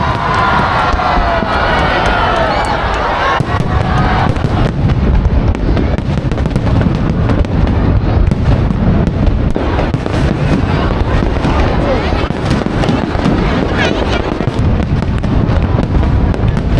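Lunar New Year (Tet) fireworks show in Ho Chi Minh City, with continuous loud rumbling and crackling bursts over a cheering, shouting crowd throughout, dense and sustained from start to finish.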